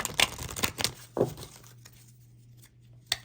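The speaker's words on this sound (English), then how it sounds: "let's go ahead and shuffle these two" Close rustling and crinkling of tarot cards being shuffled, a few quick shuffling bursts followed by quieter soft movement and a final brief rustle.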